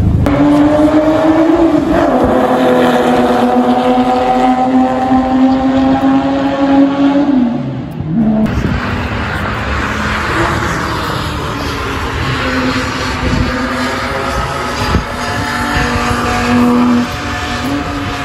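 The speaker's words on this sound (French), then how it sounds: "Les deux BMW qui sortent, la M4 CS et la nouvelle M5" Two BMWs, an M4 CS and a new M5, pull out at the Le Mans circuit, their engines droning loudly and close with rising and falling revs and a brief break in the middle.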